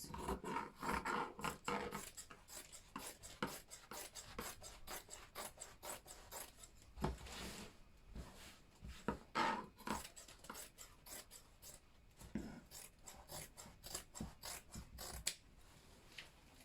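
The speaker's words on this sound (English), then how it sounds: "then we'll be cutting this out" Scissors snip through Ankara fabric being cut for a circle skirt, giving quiet, close, repeated rasping cuts in an uneven rhythm.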